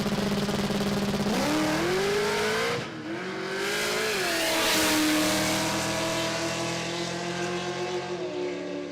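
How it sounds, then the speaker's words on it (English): A drag car at a Brisbane drag racing jamboree launches off the start line with a roaring rise in revs, then the engine note dips as the driver backs off and settles into a steady, sustained drone. "He just hit the tyre off the start line there and decided to back off."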